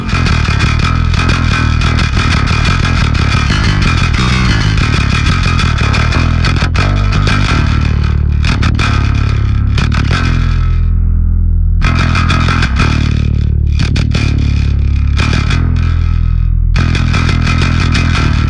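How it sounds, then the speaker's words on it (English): A heavily distorted bass guitar played through a Aurora DSP distortion preamp pedal gives loud, gritty notes and riffs, continuous and close, with brief pauses between phrases. "If you just want that extra bit of distortion in there, you can do that."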